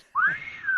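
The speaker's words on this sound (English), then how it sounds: "We need that whistle." A single short whistle, a rising then level tone lasting under a second, announcing the captain on the bridge; loud, close and alone.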